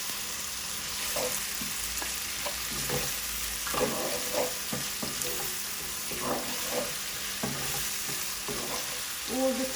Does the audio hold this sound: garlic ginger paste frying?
yes